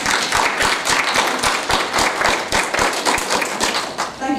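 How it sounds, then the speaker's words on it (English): An audience claps for a guest at a public event about plastic and the planet. Broadband applause runs throughout, with heavier rhythmic beats pulsing underneath, and a faint voice is heard under it. "I really don't need applause for what I do."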